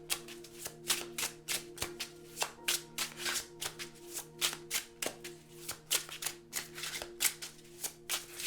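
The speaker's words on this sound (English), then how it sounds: "I just shuffled the cards" Tarot cards are shuffled by hand in a quiet room, giving a steady series of sharp riffling snaps and soft taps at roughly one per second.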